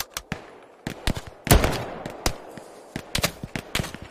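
Rapid rifle and machine-gun fire in the Hell Let Loose World War II shooter on the Foy map, loud close bursts and scattered single shots with a heavier blast, no speech.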